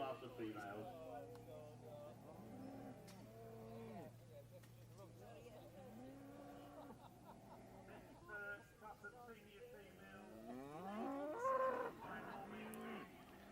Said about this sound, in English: The cow with the strong bull calf here from the Lewis family, Haven Splendor the 51